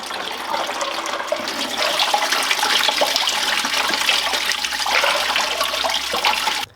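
Water rushes and gurgles through the radiator of a 1968 Datsun being flushed out, a loud, steady splashing flow for several seconds that cuts off abruptly at the end.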